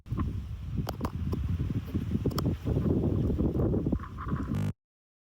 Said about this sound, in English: How does it sound outside in the wind when you got to record some content?